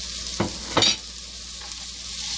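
Chopped onions fry in a pan with a steady close sizzle, broken by two sharp scraping stirs early on, then settling back to an even crackle.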